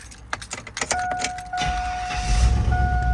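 A 1999–2007 GM truck or SUV such as a Tahoe or Silverado is remote-started: faint clicks and chimes, then the engine cranks and catches, settling into a steady idle rumble that grows slightly louder.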